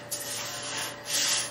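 A paintbrush scrubs and spreads acid across the rusty metal of a 1956 VW Beetle gas tank, making a continuous close rasping rub that swells louder in the final moments.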